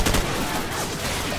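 Dense gunfire in the Call of Duty 4: Modern Warfare video game, a close, steady fusillade of overlapping shots filling the whole moment with no pauses.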